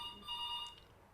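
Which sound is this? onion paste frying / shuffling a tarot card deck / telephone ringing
telephone ringing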